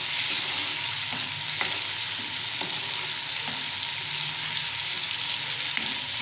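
Onions and masala for mash ki dal frying in a pan, a steady close sizzle with occasional soft scrapes and taps of a spoon stirring.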